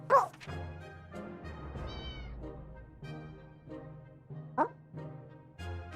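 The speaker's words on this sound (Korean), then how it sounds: "야옹 소리 들렸다. 오! 고양이다!" A cat meows several times in the video game 60 Seconds, clear and close, with short mewing calls spaced across a quiet background.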